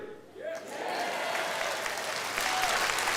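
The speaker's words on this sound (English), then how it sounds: "Now, that was a quieter cheer." Crowd at a political rally breaking into applause and cheering, a dense wash of clapping with raised voices that starts after a brief quieter moment and holds steady and loud.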